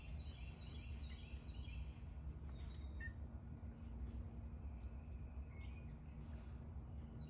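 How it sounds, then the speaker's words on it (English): Several birds chirp and sing outdoors after a hurricane, their short high calls scattered over a steady low rumble of background noise, fairly distant and faint. "You hear those birds?"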